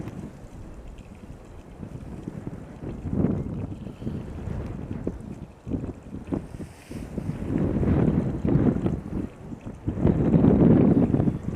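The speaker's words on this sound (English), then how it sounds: "Wind is calming again." Gusty wind at Amsterdam Schiphol airport buffets the microphone in uneven rumbling surges, rising and falling in loudness and strongest toward the end, with no speech.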